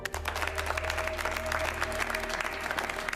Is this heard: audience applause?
yes